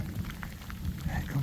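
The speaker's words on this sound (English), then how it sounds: "The rain is fully pouring now" Heavy rain pours steadily during a hike up the Sindoro volcano in Indonesia, a dense, constant wash of noise with a few brighter spatters, close and loud with no voices.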